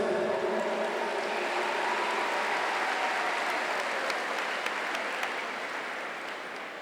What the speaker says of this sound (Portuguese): Os cofundadores, aplauda a Luzia, o Eto.